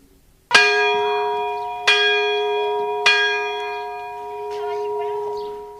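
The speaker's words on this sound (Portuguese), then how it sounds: "Um dia, o sino da igreja tocou afinados." A church bell strikes three clear, resonant times about 1.3 seconds apart, each ringing tone lingering and fading into the next, loud and close, with a voice speaking faintly under the decay near the end.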